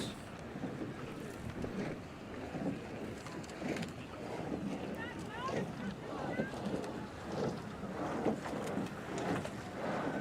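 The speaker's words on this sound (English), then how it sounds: "Nice rhythm in that boat that we can hear from the bank here" Junior sculling boat on a river at a head race, its strokes giving a soft rhythmic pulse heard from the bank under wind noise, with a commentator talking over it.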